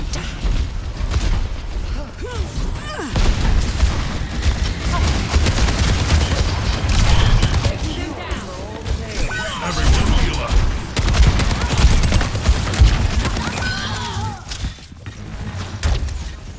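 Gunfire in Overwatch 2 on the New Queen Street map, with Soldier 76 firing rapid automatic bursts mixed with other weapons and impacts, loud and dense throughout, with in-game voices calling out over it.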